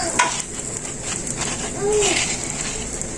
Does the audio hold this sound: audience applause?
no